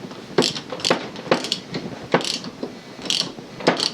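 Ratchet spanner nipping up a bolt on a VW Crafter van, a run of sharp clicking bursts in uneven rhythm, close and fairly loud with no talk.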